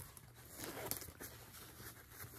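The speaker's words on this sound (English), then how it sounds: "This one actually zips open" Zipper on the pocket of a fabric sewing caddy being pulled open: a short, quiet scratchy rasp with small ticking pulses of the teeth, heard close up.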